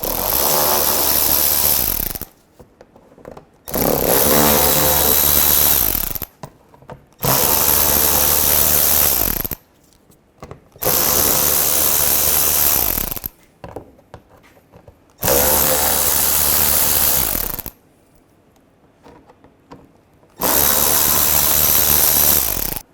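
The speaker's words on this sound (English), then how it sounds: "take these screws out as well, the same T25 socket" A power tool whirs loudly in six sustained bursts with short pauses between them, driving out T25 screws on a 2005-10 Volkswagen Jetta during drive belt work.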